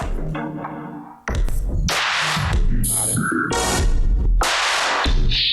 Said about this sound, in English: to create these random spectrograms and to sonify them in real time